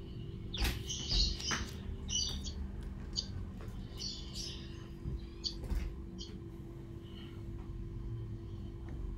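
A male blackthroat bird sings during pairing with a female in a cage, giving short, bright bursts of chirping and twittering at irregular intervals over a steady low background hum.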